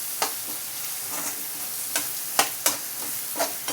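Potatoes sauté in a pan for a dried shrimp dish, a soft steady sizzle punctuated by several distinct scraping stirs of the spatula, close and clear.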